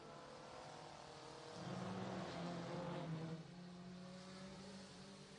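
Race cars lap a track, with a steady engine drone that swells as a car passes closer, then fades away again.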